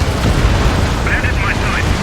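A missile strikes its target and explodes in the combat flight game Ace Combat 7, giving a loud, dense low rumble; brief radio chatter sits on top near the end.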